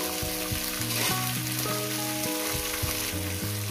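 Vegetables, including stems, hiss and sizzle steadily in a pan for a poppy-seed dish, an even frying noise heard under prominent background music.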